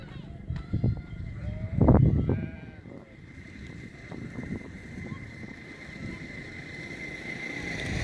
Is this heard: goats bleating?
yes